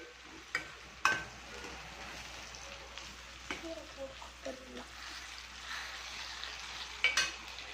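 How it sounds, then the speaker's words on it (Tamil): Gongura greens sauté in a pan with a soft, steady sizzle and occasional stirring scrapes and clinks, faint and close, with a few light knocks of the utensil. "அடுத்து நான் கீரையை போட்டு சாட்டே பண்ணி கடைஞ்சிடுவேன்"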